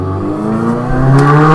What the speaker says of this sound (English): I've got 8 minutes in and a motorbike goes past.